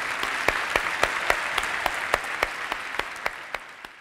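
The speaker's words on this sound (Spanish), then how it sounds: "Un aplauso, por favor." Applause from a medical conference audience after a speaker receives a recognition, a dense, steady clapping with a few distinct close claps standing out, slowly thinning toward the end, and no voices.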